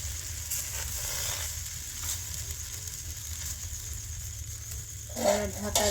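Rice batter on an oiled tawa over a low flame, spread with a palm leaf for sweet sora pitha, gives a continuous soft sizzle throughout, with a brief voice and scraping near the end.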